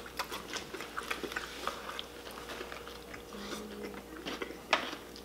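Crunchy bites on stale Cheetos coating a KFC chicken sandwich, a string of close, quiet bite-and-chew crackles with one sharper crunch near the end.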